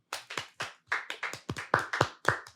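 An audience claps hands in response to a question, roughly a dozen distinct claps in fairly steady rhythm, close and clear with no talking.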